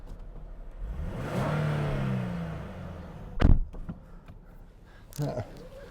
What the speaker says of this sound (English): this engine, the sound is absolutely awesome. If you just listen to this.